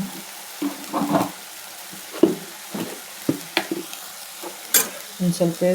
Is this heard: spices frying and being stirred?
yes